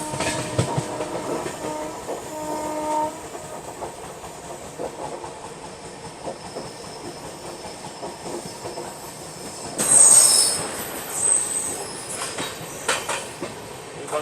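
The Bandra Bhuj AC Superfast train runs along the rails with steady rumbling, clicking wheel beats and brief high squeals from the wheels, moderately loud and continuous, with a louder surge partway through.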